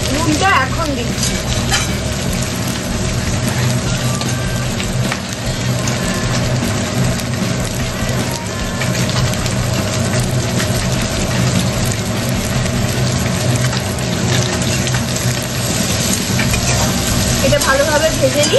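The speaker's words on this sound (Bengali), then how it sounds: "এটা ভালোভাবে ভেজে নিই" Chicken with masala frying in a pan for a dhaba-style chicken gravy, a steady dense sizzle with stirring scrapes running throughout, loud and close, under a talking voice.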